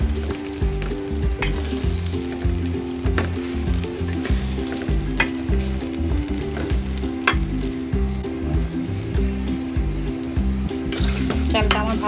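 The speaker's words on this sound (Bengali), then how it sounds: "চালটাকে ভালো করে নেড়ে চেড়ে ভাজা ভাজা করে নিতে হবে" Rice frying in oil for hilsa pulao with green chillies and salt, a loud, continuous close sizzle with rhythmic scraping as the rice is stirred throughout, and no voice.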